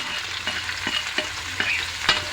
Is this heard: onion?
yes